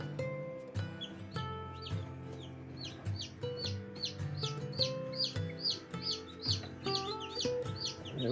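Newly hatched baby chicks, among them a black Australorp and a Barnevelder or Wyandotte, chirp in quick high peeps that grow busier and more overlapping, close and fairly soft.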